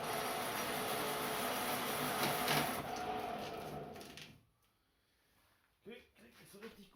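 A lathe carriage runs under power along the feed rod with a steady mechanical whir, then stops as it jams, followed by a few faint knocks and someone talking quietly.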